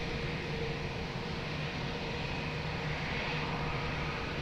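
An airliner takes off from runway 20 at Lisbon Airport, its engines heard as a steady, broad roar at moderate distance that holds evenly with no voices over it.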